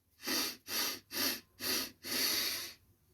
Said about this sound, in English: In through your nose